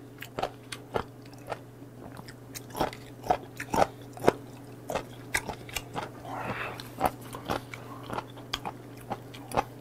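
Raw whelk and scallop sashimi dipped in chojang sauce being chewed up close, a run of crisp, wet bites and crunches in an uneven rhythm over a faint steady hum, with no talking.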